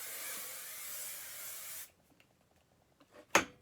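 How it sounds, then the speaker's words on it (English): Hairspray hisses from an aerosol can onto hair in one steady, close spray lasting nearly two seconds, then cuts off, followed by quiet rustling and a brief sharp sound. "and we'll spray."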